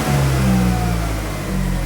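A car engine with a lean-running P0171 check-engine fault revs steadily as the gas pedal is pressed. It makes a loud, continuous mid-pitched drone that holds through the whole stretch, with no talking.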